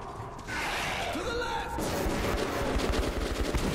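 Rapid gunfire in the post-apocalyptic shooter game Metro 2033, a dense continuous burst of automatic shots filling the scene, with a voice talking over parts of it.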